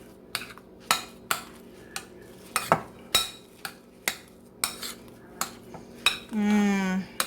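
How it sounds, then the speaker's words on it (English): A spoon mixes thawed whipped cream into icebox lemon pie filling, knocking and scraping against the bowl in about a dozen sharp, close clinks at an uneven pace, with a brief squeaky scrape near the end and no talking. "you got to make sure that this is thawed, this whipped cream, that it's thawed out, and just mix that in."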